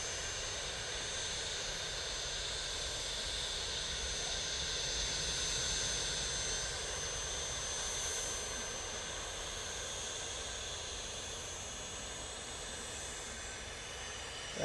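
Steady broadband roar of a jet aircraft departing Manchester Airport, sustained and fairly even throughout, heard at a distance without talk.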